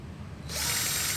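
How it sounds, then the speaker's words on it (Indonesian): An electric drill kicks in abruptly and runs at a loud, steady whine, boring through the metal of a frying pan to widen a hole after a short stretch of quiet room noise. "perbesar dengan mesin bor"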